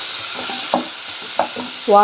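Chopped ajwain leaves frying in a pan with sliced small tomatoes, giving a steady sizzle broken by a few stirring scrapes and soft knocks, ending in a brief louder clink of the pan.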